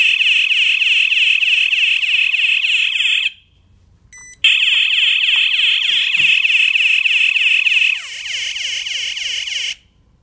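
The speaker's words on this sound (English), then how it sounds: "So there you see the alarm sounds." A ProLogic duress module door alarm buzzer sounds loud and close as a steady pulsing electronic tone, cutting out briefly, resuming, then stopping.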